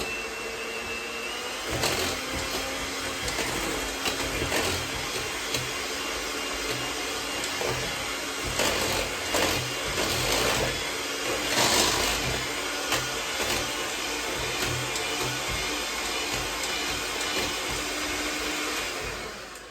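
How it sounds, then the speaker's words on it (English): Electric mixer beating vegan lemon bundt cake batter, a steady loud motor whir running continuously for about twenty seconds with slight changes in pitch as the beaters move through the bowl. "We're just gonna go ahead and beat this thoroughly so it's all well combined."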